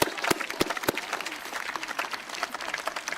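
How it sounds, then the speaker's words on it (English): Audience applause at a city State of the City address, a dense wash of many hands clapping steadily with a few sharp louder claps near the start, crowd noise mixed in. "let's give them a round of applause"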